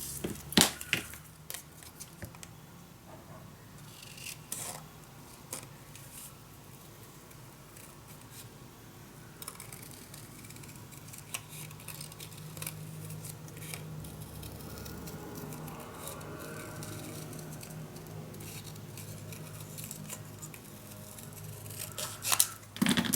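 Scissors snip through paper pieces for a handmade mini album, a steady run of close, quiet cutting and rustling that carries on with small pauses, with a sharper handling clatter near the end.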